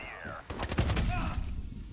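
Rapid gunfire bursts in a free first-person shooter game, a short cluster of sharp loud shots after a brief pause, with a faint voice in the background.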